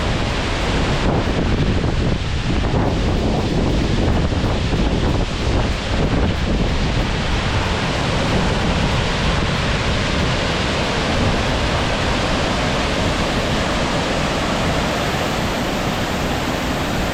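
Strong wind driving spray off the waterfall at Sioux Falls, a dense, loud, continuous roar of rushing water and buffeting wind on the microphone, steady throughout with no voices.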